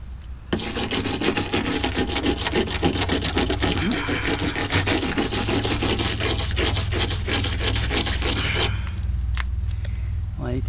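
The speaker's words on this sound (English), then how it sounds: "Now if we start scrubbing this" Rapid rough scrubbing against a car body to lift bubbled rust, loud gritty back-and-forth strokes in a fast steady rhythm that run for most of the stretch, then ease into a few scattered scrapes near the end.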